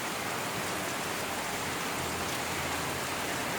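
Steady heavy rain falling on a house with a tarpaulin roof during a wet September night, a dense, even hiss of drops with no pauses.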